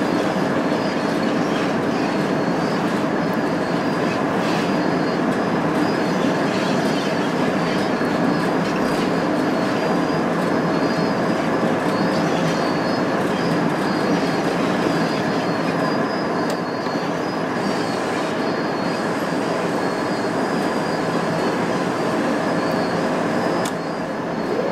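A heavy freight train rolls down a 2% grade in Train Sim World 3, a steady loud rumble of wheels and rail with faint squeal and clatter running unbroken throughout, no talking.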